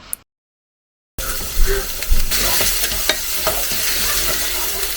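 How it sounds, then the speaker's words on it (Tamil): Loud, crackling sizzle of okra and onion frying in a hot pan, starting abruptly after a brief silence and continuing with stirring scrapes. "நல்லா ஃப்ரைங் பேனில் வறுத்து எடுக்க வேண்டியதுதான்"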